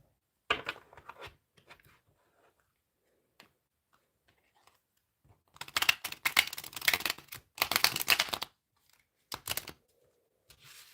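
A deck of tarot cards being shuffled, with sharp clicking flurries, a long burst of rapid riffling in the middle, and short quiet gaps between bursts, close and fairly faint.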